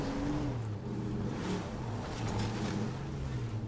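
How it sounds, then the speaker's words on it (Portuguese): Car engine hum in the zombie survival video game State of Decay 2 as the vehicle drives and slows to park, a low steady drone with faint rumbling road noise and no talking. "Vai estacionar o carro aqui nesse cantinho aqui"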